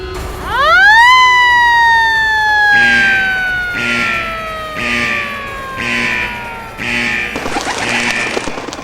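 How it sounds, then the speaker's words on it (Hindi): A loud siren winds up sharply, then wails in steady repeating pulses, with a rougher burst of noise near the end. "लगता है जंगल का सायरन बज गया"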